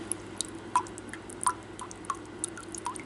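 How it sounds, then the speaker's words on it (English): Water drips and drains from rinsed taco ingredients in a series of sparse, irregular drops and small wet splashes, close up over a quiet, faintly humming background. "Just kind of let it drain out some."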